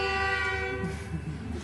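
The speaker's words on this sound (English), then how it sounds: "Oh, a train." A train passes with its horn blaring loudly at first, a sustained tonal blast that cuts off, followed by the rumble and rattle of rail cars going by.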